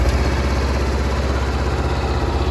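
A 2021 Honda CBR500R motorcycle with the stock baffled pipe idles steadily close by just after start-up, a continuous low, even engine throb with no voices.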